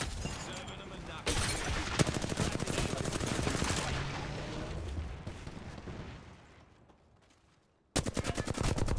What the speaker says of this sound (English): Knuckle clusters fire.